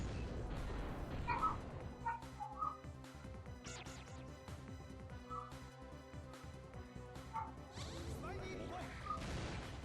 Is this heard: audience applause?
no